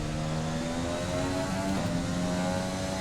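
High-revving F1 2020 race car engine on the Canada circuit in career mode, a steady droning whine with harmonic tones sustained throughout, loud and continuous with a slight pitch shift midway.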